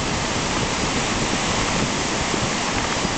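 The Little Pigeon River in the Great Smoky Mountains, swollen after two days of rain, roars in a steady, dense, unbroken rush of whitewater, loud and close with no voices.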